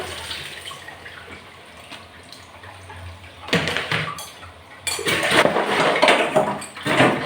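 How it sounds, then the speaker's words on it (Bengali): Pots, pans, plates and a wok being washed by hand, quiet clinks and scrapes at first, then louder clattering and splashing water in bursts toward the end, with no voices. "অনেকগুলোই বাসন আছে হাঁড়ি কড়াই থালা বাসন"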